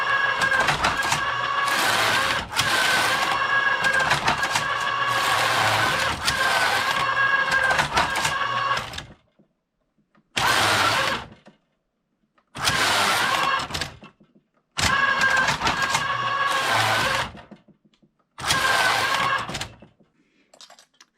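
Passap E6000 knitting machine carriage racking back and forth across rows, a loud rattling mechanical clatter in repeated passes, one long run followed by shorter bursts separated by brief pauses.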